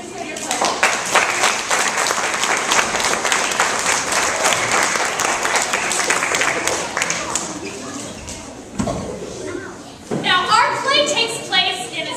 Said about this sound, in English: let's get a round of applause as I bring out our actors